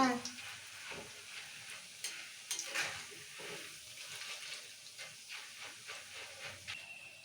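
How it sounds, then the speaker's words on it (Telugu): Ingredients for a crispy poha mixture frying in a pan of oil, giving a steady sizzling hiss with occasional stirring scrapes throughout, close and fairly loud with no talk. "కొంచెం నూనెలో ఫ్రై చేస్తే కొంచెం క్రిస్పీ అవుతుంది"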